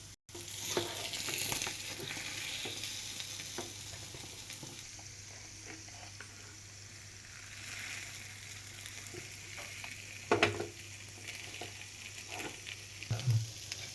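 An egg omelette topped with green chilli, dried red chilli and pepper cooks in a pan, giving a faint, even crackle and hiss with a few louder spatters near the end, continuous and without speech.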